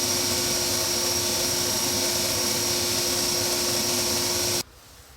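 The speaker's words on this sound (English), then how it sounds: "I'm just going to use the belt sander just to trim it up to the lines and get us a nice even circle." Belt sander grinding the edge of a small wooden piece into a circle, a steady loud whine that runs continuously and cuts off abruptly near the end, with no talking.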